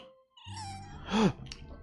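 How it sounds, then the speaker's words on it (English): A feline creature in a video game, a fox-tailed shadow cat, gives a single clear meow, close and fairly loud, over a low steady game background hum. "Oh yeah, that's a cat."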